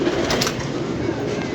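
A pet pigeon coos softly and briefly at close range, over a steady background hum.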